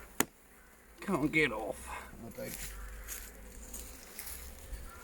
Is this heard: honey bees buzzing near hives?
yes